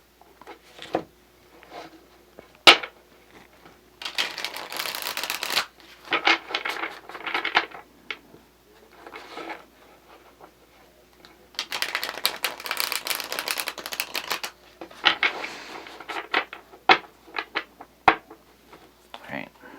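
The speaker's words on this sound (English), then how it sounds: "Let's get 2 more shuffles." Tarot cards are riffled and shuffled in several bursts of rapid papery flutter, separated by pauses, close and crisp.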